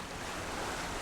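Ocean waves rolling behind a sailboat running dead downwind wing on wing off Australia's Top End, a steady broad wash of water and wind noise with no talking.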